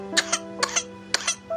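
A sick child coughs in three quick pairs of short, dry coughs, close and clear, with nothing else around them.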